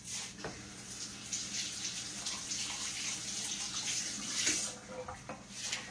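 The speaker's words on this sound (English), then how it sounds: "Let me rinse this off." Tap water runs steadily into a kitchen sink while something is rinsed under it, a continuous soft splashing that stays fairly quiet, with no talking.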